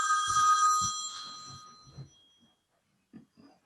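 A telephone bell rings with a bright, trilling tone for about a second and a half, then stops, leaving a few short bumps and rustles.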